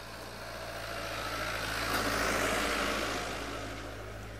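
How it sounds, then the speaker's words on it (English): A tractor passes close by on a safari track, a broad engine rumble and rushing noise that swells to a peak midway and then gradually fades. "So we've got a tractor just passing next to us."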